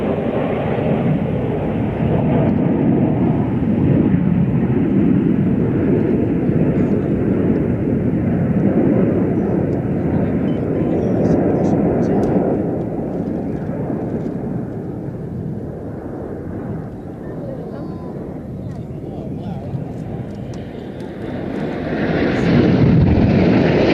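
Red Arrows jets at an air show sweep past at over 450 mph in a loud, sustained broadband roar that swells, dips around the middle, then surges again near the end, with wind buffeting the microphone.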